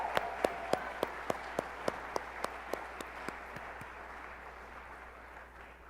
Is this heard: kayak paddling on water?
no